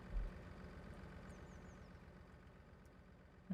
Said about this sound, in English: you can hear the tractor from in there.